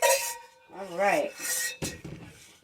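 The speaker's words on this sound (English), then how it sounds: "And then you're going to want to make sure you stir this really good." A spoon stirs buttered macaroni with eggs and ham in a pot, giving close, raspy scraping and rubbing strokes with a few light metallic clinks, in short irregular bursts.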